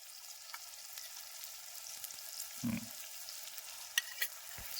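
Coriander-cumin powder and undhiyu masala fry in oil with a faint, steady sizzle, punctuated by a soft low thump and a couple of light stirring clicks.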